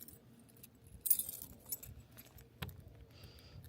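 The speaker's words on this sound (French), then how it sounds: "quand on m'a remis les clés du VR, on avait un trousseau ici avec 50 clés pour différentes serrures" A large bunch of RV keys jangles and clinks in brief bursts near the listener, faint and metallic, with a sharper rattle midway.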